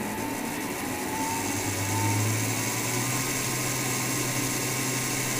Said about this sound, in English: Now I want you to hear the sound of the speed,